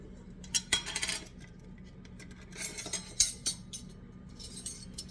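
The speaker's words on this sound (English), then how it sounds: "now I'm adding a 1/2 teaspoon of salt" A metal spoon clinks and scrapes against a bowl while salt goes into muffin batter, giving several light, close taps and rubs with quiet gaps between them.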